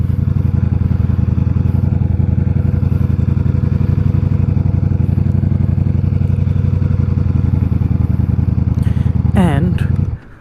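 A 2023 Ducati Diavel V4 motorcycle rumbles steadily and loudly up close while riding, a dense low engine drone holding for about ten seconds with brief revving near the end before cutting off.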